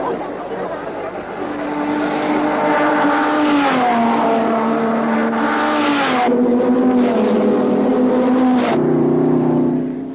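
Two Ferrari race cars in a Grand Prix streak past, engine notes rising then sliding down in pitch as they pass, loud and close in a sustained roar.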